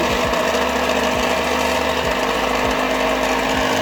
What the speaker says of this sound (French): Et ensuite avec un batteur électrique,